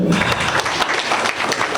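Audience applause for M. Mokhtar Barry at the installation ceremony of the Guinean community's new president in Port-Gentil, a steady dense clapping that fills the whole stretch at close range.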